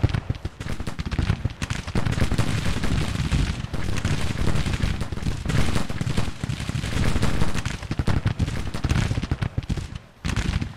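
Dense, continuous musket volleys from Civil War regiments in Grand Tactician roll on as a sustained crackling barrage, loud and near, with overlapping shots and no pauses for nearly eleven seconds.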